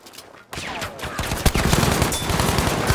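Battlefield V gunfire erupts after a brief quiet start, growing into dense, loud overlapping bursts and rapid shots that continue to the end.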